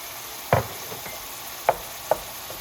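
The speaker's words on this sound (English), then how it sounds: "And now I'm going to add the curry paste." Curry paste hitting a hot pan with coconut cream while cooking whole red rockfish, a soft steady sizzle with a few sharp scraping stir clicks from a utensil against the pan.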